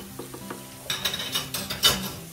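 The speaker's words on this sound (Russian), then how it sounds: "Теперь нужно жарить, только нужно положить больше яйцо." Korean pancake batter with egg fries in a pan, a soft sizzle under brisk scraping and stirring clinks of a utensil against metal, growing busier and louder partway through.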